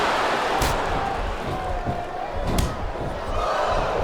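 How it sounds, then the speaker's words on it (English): A video game crowd roars during a WWE SmackDown vs RAW 2007 wrestling match. The cheering is loud and continuous, with two sharp slam-like impacts and commentary voices mixed in. "I can't remember the last time I saw a crowd this pumped up for SmackDown action."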